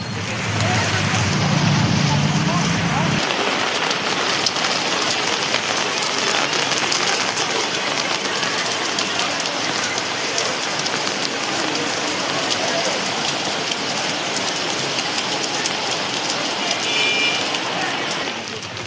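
Heavy rain pouring down outdoors during a festival outing, a dense continuous hiss of drops striking surfaces from start to finish, loud and close, with a brief low rumble at the opening.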